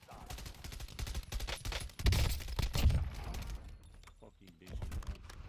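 Bursts of rapid automatic gunfire in a video game shooter, fairly faint and mixed with people talking over the action, with a louder volley in the middle and quieter stretches after.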